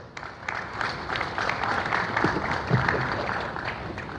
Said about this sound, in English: Amongst your round of applause.